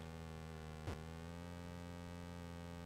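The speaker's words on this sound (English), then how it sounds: "There's no music or anything, it's just a dull humming." A faint, steady electronic drone of a truck engine in an 8-bit multi-game cartridge game, a flat harmonic hum held throughout with one brief rising chirp near the start.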